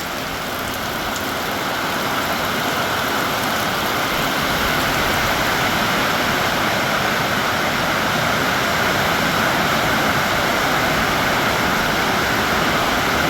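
Heavy rain dumps down steadily in a dense, loud hiss that holds constant throughout, a continuous downpour with no talk over it.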